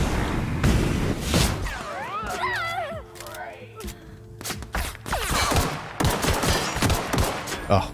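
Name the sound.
gunfire from guns in the video game The Outer Worlds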